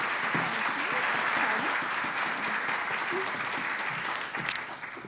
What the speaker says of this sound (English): I'd appreciate y'all joining me and giving her a big round of applause